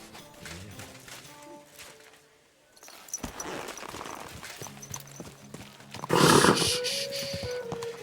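Horse hooves clip-clop in the medieval game Kingdom Come Deliverance 2, mid-distance under music and ambient noise, with a louder burst of activity near the end.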